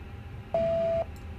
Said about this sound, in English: that beep tells you that the test was okay.